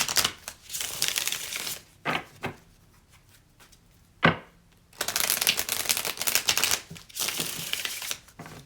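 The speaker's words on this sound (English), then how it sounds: "I just like to shuffle on camera so you guys can see." A deck of tarot-style cards shuffled repeatedly by hand, loud close riffling bursts in an uneven rhythm with brief pauses between, no talking.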